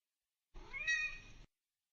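A lone cat meows once, near and clear, for about a second with a bending pitch, set against silence.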